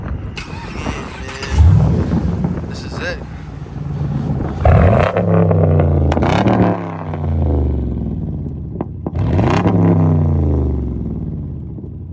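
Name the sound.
V8 car engine starting and revving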